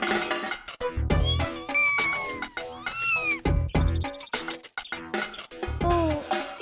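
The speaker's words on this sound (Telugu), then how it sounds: "గంటు పిల్లి తిరుగుతూ ఉంది." A cartoon tomcat meows over and over, loud and close, with long drawn-out wavering cries between short percussive knocks and scuffles.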